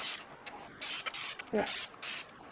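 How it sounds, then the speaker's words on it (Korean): Water misted from a spray bottle over resting whole-wheat bran baguette dough, several short hissing spritzes in quick succession, close and fairly soft. "이렇게 물을 스프레이로 뿌려주면 좋습니다."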